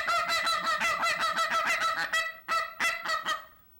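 A person vocally imitates snow and blue goose calls, a rapid run of nasal, higher-pitched honks repeated about a dozen times, closely miked, with a short pause before a final few calls.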